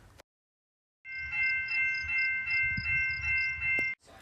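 A passing train rumbles steadily with a sustained hissing, whistle-like tone riding over it and rhythmic pulses from the cars, starting abruptly after a brief silence and cutting off near the end.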